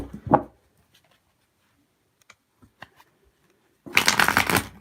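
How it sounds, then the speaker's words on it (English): A deck of tarot cards is shuffled in a short riffle at the start. A few soft taps and card handling sounds follow, then a louder, longer riffling burst comes near the end, all close and with no talk. "And y'all saw me shuffle."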